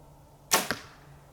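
A compound bow drawn at 70 pounds releases an arrow with a sharp, loud snap, followed a split second later by a second, fainter buzzing rattle from a vibrating sight, all in a quiet outdoor setting.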